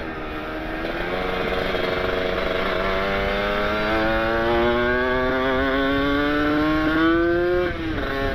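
A Kawasaki Ninja RR two-stroke motorcycle fitted with an ABRT20 exhaust revs steadily, its crisp engine note climbing gradually in pitch, then dropping sharply near the end. The loud, continuous revving runs close by with no talk over it.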